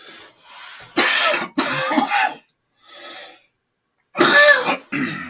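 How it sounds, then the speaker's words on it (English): A person with a dry cough gives a run of harsh, unproductive coughs and throat clearing, close to the microphone, in separate bursts with short silent pauses between them. "for the last 2 days, it's just been a dry cough"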